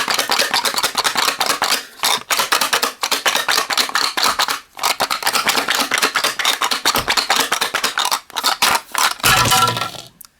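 Dice rattle and clatter inside a plastic Magic: The Gathering deck box as it is shaken hard, a dense run of sharp clicking bursts with brief pauses, close and loud.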